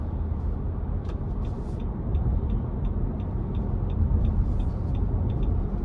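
A 2023 Nissan Armada SV with a 5.6-litre V8 accelerates, its engine giving a steady, moderately loud low rumble heard from inside the cabin, with a faint repeating ticking over it.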